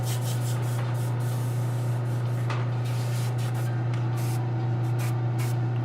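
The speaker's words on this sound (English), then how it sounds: "What I could do is I could lower my airbrush." An airbrush sprays paint with a continuous close hiss over a steady low hum, broken by short pulses of airflow as the trigger is worked.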